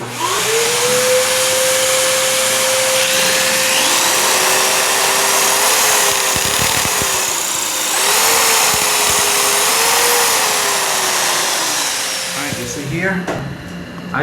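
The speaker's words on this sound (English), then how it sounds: "use your vacuum while you're drilling up in the ceiling" Drill boring into a concrete ceiling while a vacuum runs alongside, a loud continuous whine whose pitch wavers and dips as the bit bites, ending with scraping handling noises.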